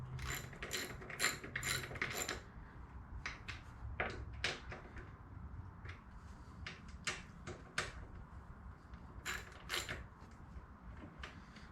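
A ratchet tightens bolts on a Segway, its quick clicking bursts coming in short runs with pauses between, close up, with scraping and handling noises in a quiet room.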